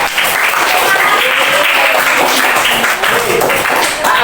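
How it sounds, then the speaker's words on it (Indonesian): Students in a classroom burst into sustained, dense applause, steady and loud throughout with no pauses. "Tepuk tangan."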